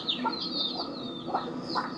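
Chickens cluck at a village house, several short, close squawking calls in quick succession with no talk over them.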